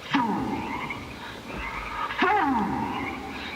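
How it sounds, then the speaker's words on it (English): Frogs croak on an old found tape recording, two distinct warbling, sliding calls separated by a pause, slightly hissy and lo-fi. "all the little frogs are so weird"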